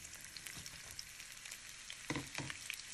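Thinly sliced onions fry in a pan with cardamom, cloves and cinnamon sticks for biryani, giving a steady, fairly faint sizzle broken by a few clattering stirs.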